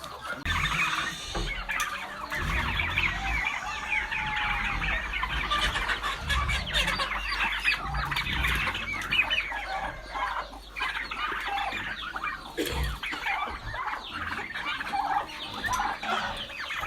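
A flock of meat chickens clucking and chattering on a farm, a dense, continuous, close-up chorus of overlapping calls lasting throughout.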